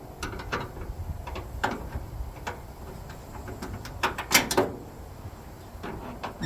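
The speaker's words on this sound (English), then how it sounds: "Oh, that's not an adjustable, that's a ratchet." A ratchet wrench clicks in short irregular bursts while working on a 1975 Chevy C50 truck, faint metallic ticks and clatter in a quiet workshop with no talking.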